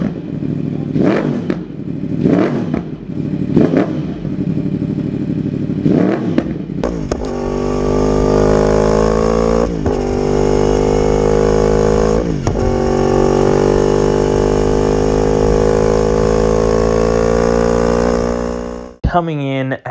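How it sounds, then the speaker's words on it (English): A Yamaha R1 motorcycle with a cross-plane crank engine gives several sharp throttle blips, then holds one long, loud, close rev before cutting off abruptly near the end. "Great sounding cross-plane crank engine."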